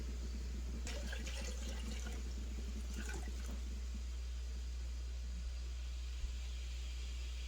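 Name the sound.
water poured into water bath canner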